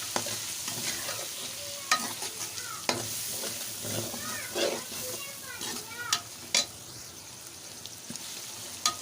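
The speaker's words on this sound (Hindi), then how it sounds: "अब जो ये मेरे पास रेड मिर्च, हल्दी और ये मसाले हैं ये डाल देंगे और इसको अच्छी तरह से भून लेंगे।" Onions sizzle and fry in a pan with red chilli, turmeric and spices, a steady crackling hiss broken by repeated scraping and stirring strokes, with a voice talking faintly in the background.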